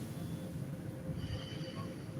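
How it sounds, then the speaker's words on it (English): A Moscow metro train runs with a steady low rumble and rattle of carriages, faint high squeals from the wheels, continuous and enclosed. "This is Russian metro."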